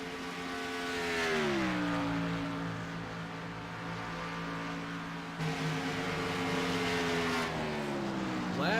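A race car engine roars through a broadcast race, its pitch sweeping down and back up as the car shifts and passes, loud and sustained. A commentator's voice runs faintly underneath.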